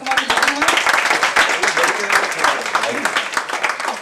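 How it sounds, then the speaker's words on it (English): Audience applause at a celebration for the film Grand Masti, brisk clapping under a voice. "I think that deserves a huge round of applause"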